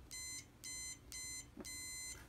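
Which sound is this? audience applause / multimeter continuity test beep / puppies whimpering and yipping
multimeter continuity test beep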